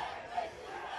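A motocross race crowd roars and cheers in a steady, distant wash of many voices, brief and fairly faint.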